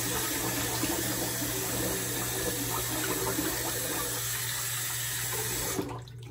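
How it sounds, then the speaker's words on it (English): Tap water runs steadily into a bathroom sink while the face is wetted before shaving, a loud continuous close gush that stops abruptly near the end. "Let me wet the face here."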